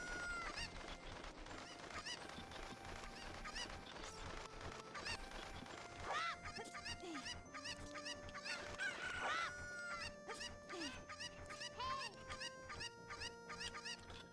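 A chicken in the Ocarina of Time video game clucks and crows, the game's bird calls sounding repeatedly over steady background music, with no talk.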